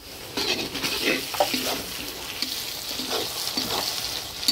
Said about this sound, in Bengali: পেঁয়াজটা ভাজা ভাজা হয়ে আসছে, এবার দিয়ে দিচ্ছি টমেটো